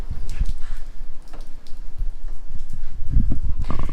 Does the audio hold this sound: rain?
yes